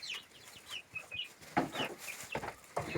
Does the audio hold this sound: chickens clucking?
yes